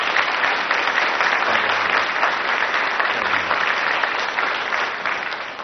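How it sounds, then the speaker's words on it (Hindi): A studio audience at an Indian TV courtroom-style interview show claps in support, producing a dense, steady wash of applause that holds evenly and tapers slightly at the end. "ऐसे लोगों को ताली बजाकर समर्थन करें"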